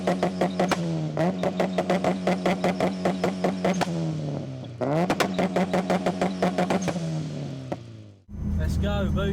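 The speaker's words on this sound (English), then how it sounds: "Let's go, boosted B series, and see what she does." A turbocharged B18 engine in a Honda Civic revs hard, rising through repeated pulls with rapid popping and clattering pulses, loud and close, then drops off and restarts.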